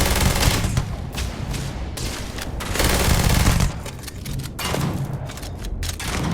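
Rapid, sustained gunfire from a weapon in Starfield, dense bursts crackling one after another with brief dips between volleys, loud and close with no voices.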